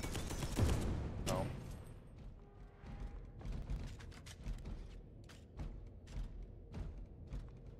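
Gunfire in Space Hulk Deathwing sounds as a burst of loud shots followed by scattered thuds and mechanical clanks at a lower level.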